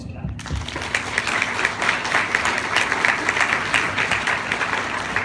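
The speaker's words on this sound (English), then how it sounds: "I think they really deserve a round of applause for that." Audience applause after a speech, starting abruptly and continuing as a dense, steady clatter of many hands, with some voices mixed in.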